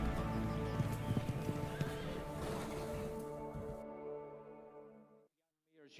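A filly walks at a sale of two-year-old racehorses, hooves clip-clopping under a busy crowd and commentary, with a whinny in the mix before the sound cuts out.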